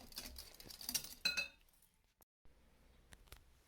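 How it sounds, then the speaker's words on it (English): A whisk clinks and scrapes against a bowl while mixing mashed bananas with milk for banana chocolate chip muffin batter, a quick busy stir followed by a pause and a few faint taps. "we're going to mix it all together with that whisk."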